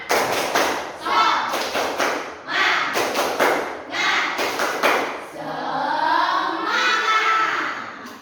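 Rhythmic group hand clapping of the tepuk semangat cheer in an Indonesian classroom with children, sharp patterned bursts of claps alternating with a teacher's voice and chanted words.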